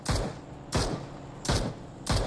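Four sharp bursts of gunfire in the PUBG Mobile battle royale game, evenly spaced about three quarters of a second apart, each loud and close with a short booming tail over low background noise.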